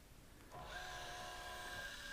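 A boat trolling motor on a C-Dory 22 stows itself with a steady electric whine and mechanical hum that starts abruptly after a quiet moment and runs on evenly, close and moderately loud.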